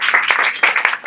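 An audience at a magic cabaret show claps together in a dense, steady burst of applause, close and lively, lasting about a second with no talk over it.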